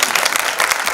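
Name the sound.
audience applause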